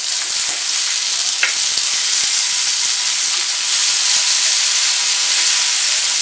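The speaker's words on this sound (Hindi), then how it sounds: "पैन में डाल देते हैं अदरक लहसुन प्याज और टमाटर" Ginger, garlic, onion and tomato frying in butter in a pan for creamy tomato soup, giving a steady, close, loud sizzle with light stirring clicks throughout, no voices.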